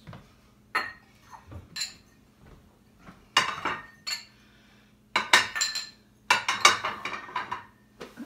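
Ceramic ramekins and baking dishes are set down and shuffled in a test kitchen, giving scattered clinks and knocks that come in small clustered bursts, close and fairly loud.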